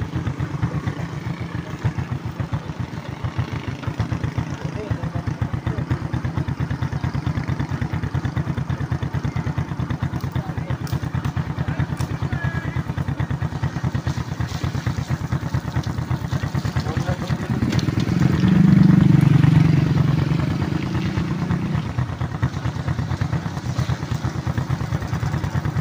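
A motorcycle is ridden with its engine droning steadily the whole way, swelling louder for a few seconds near the end, with wind and road noise over it and faint voices now and then.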